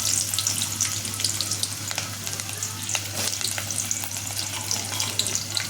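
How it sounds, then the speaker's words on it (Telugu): Whole spices such as cinnamon tempered in hot oil for a soya chunk curry, sizzling and crackling steadily and close up throughout, with no talking. "ఇవన్నీ తాలింపులు వేస్తా."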